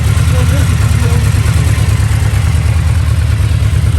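A Yamaha 1679 cc motorcycle engine runs at idle, a steady low throbbing rumble that sits close and loud throughout, with a voice talking faintly over it.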